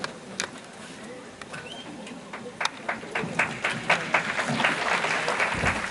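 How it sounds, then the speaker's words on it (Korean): Audience applause at an education lecture for lifelong-learning instructors welcoming a guest speaker, starting as scattered sharp claps and building into fuller, louder clapping by the end. "임정빈 강사님을 큰 박수로 맞이해 주시기 바랍니다"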